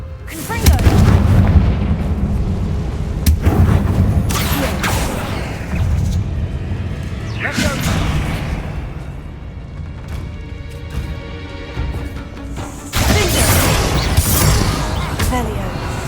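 Confringo blasting spell explosions in Hogwarts Legacy, a series of loud booming blasts and crackling impacts with mechanical creaks, bursts recurring every few seconds amid ongoing game sounds and voices.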